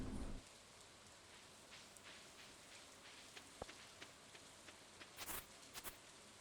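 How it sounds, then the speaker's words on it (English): Steady soft rain patters across a Stardew Valley farm on the last day of spring, a faint even wash with a few small chimes and rustles near the end. "Last day of spring and it's raining"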